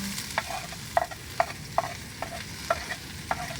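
Banana heart (puso ng saging) being stirred and fried in a pan for adobo, with a steady soft sizzle beneath repeated scraping stir strokes about twice a second, close and moderate in level.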